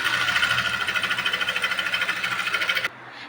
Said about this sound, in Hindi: अब इसको बराबर करते हुए यहाँ पे ऊपर के साइड से एक सिलाई लगाएंगे।